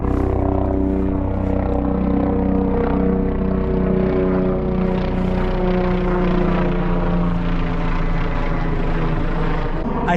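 A law enforcement helicopter passes overhead during a nighttime search on a trail, its steady rotor drone and engine whine loud and continuous throughout.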